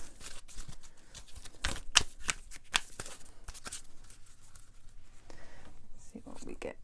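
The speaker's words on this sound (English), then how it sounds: "So I'm going to just pull a couple of energy oracle cards just to finish off the reading." Oracle cards being shuffled and drawn by hand for a tarot-style reading, a run of soft papery riffles and flicks with a few sharper snaps, close and fairly quiet, with no talking.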